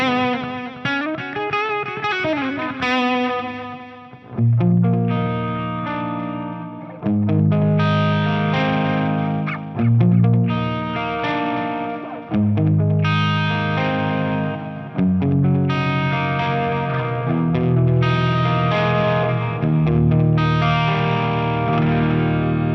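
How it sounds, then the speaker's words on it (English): Electric guitar through a custom-built 100W Marshall 1959T clone, with a Boss DD6 digital delay pedal in the effects loop; distorted chords and single notes ring with repeating echoes trailing each phrase, loud and continuous, with no talking. "The pedal here, the DD6 digital delay, is on, and I'm going to turn it on with the effects loop."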